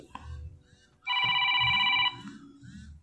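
An incoming call rings on an HW 67 Pro Max smartwatch, a bright electronic ringtone burst lasting about a second between stretches of nearby talking.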